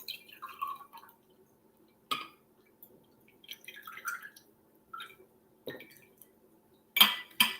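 A chilled drink with lemon juice is poured out at a vegan brunch, giving quiet, scattered clinks, taps and drips of ice and glass with pauses between them.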